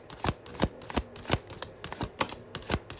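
Tarot cards being shuffled in quick, rhythmic riffles, about ten crisp bursts in a row, close and clear with no talking.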